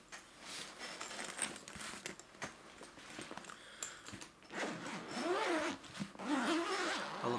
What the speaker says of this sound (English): I love the sound of guitar zippers.